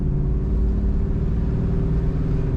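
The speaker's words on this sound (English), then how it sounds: "Good performance from the engine." A 1969 Ford Falcon Futura's engine idles steadily, a constant low rumbling hum heard up close with no speech.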